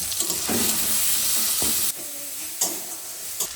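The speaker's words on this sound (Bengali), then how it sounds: "চিকেনের কিমা নিয়ে একটু কষিয়ে নিচ্ছি পেঁয়াজ আদা রসুন দিয়ে" Chicken mince fries in a pan with onion, ginger and garlic paste, turmeric, chili powder and salt, a loud dense sizzle and stirring scrape that drops slightly in level partway through, with no voices.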